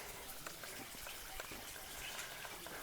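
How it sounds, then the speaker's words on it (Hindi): Natural spring water flows out from inside the hills in a steady, faint gush that hisses softly and continuously, with no pauses and no one speaking. "यहाँ पर दोस्तों एक प्राकृतिक झरना भी चल रहा है। देखें पहाड़ों के अंदर से पानी आ रहा है।"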